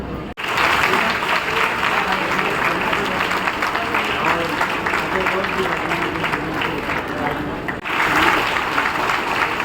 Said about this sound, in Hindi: सभी तालियां बजाकर उनका स्वागत करेंगे